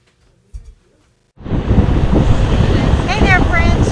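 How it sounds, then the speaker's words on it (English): Strong wind buffets the microphone on a Treasure Island shoreline at low tide, a loud continuous roar and rumble starting abruptly after a brief quiet bump, with faint gull-like cries near the end. "Very windy day."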